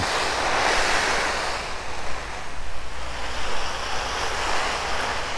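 A garden hose sprays water over a tent that has stood outdoors for two years, a loud, steady hiss of spray drumming on fabric that swells and eases slightly throughout.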